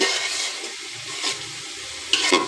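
Vegetables with beans fry in a pan for egg fried rice, giving a close, steady hiss of sizzling with a few soft stirring scrapes and a sharper rattle near the end.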